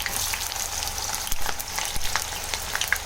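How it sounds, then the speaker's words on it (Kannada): Four large onions frying in oil until golden brown for chicken biryani, giving a steady, close, dense sizzle with faint stirring crackles and no voices. "ಅದನ್ನು ಗೋಲ್ಡನ್ ಬ್ರೌನ್ ಬರೋವರೆಗೂ ಎಣ್ಣೆಯಲ್ಲಿ ಫ್ರೈ ಮಾಡ್ಕೋಬೇಕು."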